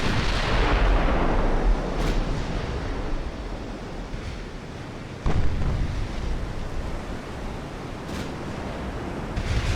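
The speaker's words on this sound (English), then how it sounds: "They're firing at us." Naval artillery in the Ultimate Admiral: Dreadnoughts video game, with loud, sustained booming salvos and rumbling blasts that roll into one another, including a sharp fresh report partway through.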